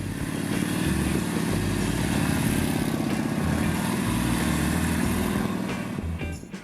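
A motorcycle engine runs at a steady, even throttle, close by, its rumble holding constant before easing off slightly at the very end.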